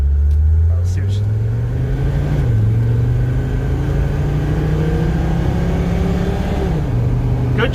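A Mercedes-Benz 300TD W123 diesel wagon, after a blown hydraulic line, drives with a steady loud engine drone and rumble, pitch rising through the gears with shift dips, heard from inside the car.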